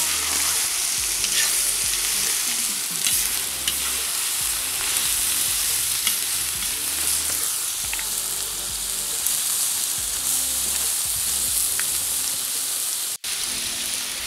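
Carrots frying in a pan for Uzbek mastava soup give a loud, continuous close sizzle with a rain-like crackle and occasional stirring scrapes, with no talking.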